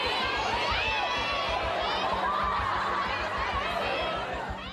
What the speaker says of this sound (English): a huge crowd has gathered to celebrate Ned's story in its latest incarnation